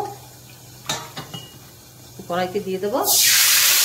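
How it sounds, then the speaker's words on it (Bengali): Salt and turmeric mixed with water is poured into a hot wok with frying fish, starting a few clinks of a bowl and utensil and then a sudden loud, steady hiss as the liquid hits the hot oil. "আমি একটু জল দিয়ে এই নুন হলুদটা আমি কড়াইতে দিয়ে দেব।"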